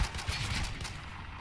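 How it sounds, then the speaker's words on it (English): Gunfire in the Spec Ops: The Line video game, a rapid fusillade of muffled shots rattling in quick succession at moderate volume, fading slightly toward the end, no voices over it. "Who the hell is shooting?"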